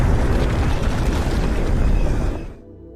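A bomb explodes in a film as a robot reactivates, one loud, dense rumbling blast that fills the low end for over two seconds and then drops off sharply into near silence.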